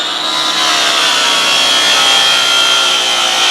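A grinder sands a pitted metal cattle bumper with a continuous, loud, close abrasive whir and hiss, one faint steady whine running through it, no pauses or speech.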